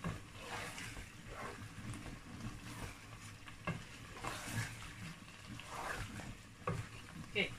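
Nigerian designer stew sauce frying in a pot with grilled fish mixed in, a soft, low bubbling sizzle broken up by intermittent scraping and stirring knocks.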